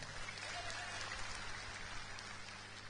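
Faint, steady applause from a crowd at a religious lecture, a dense patter of clapping with no clear pauses, heard at a distance.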